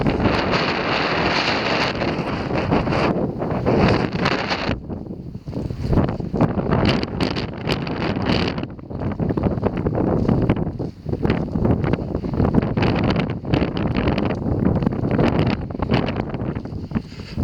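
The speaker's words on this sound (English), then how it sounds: "Very windy at the moment." Strong wind buffets the microphone on open moorland in loud, continuous roaring gusts with no pauses, rising and falling throughout.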